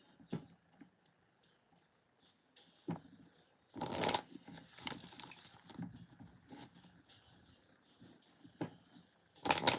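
Tarot cards are shuffled and laid out in a spread in a quiet room, with soft taps and slides between two loud riffling bursts of the deck.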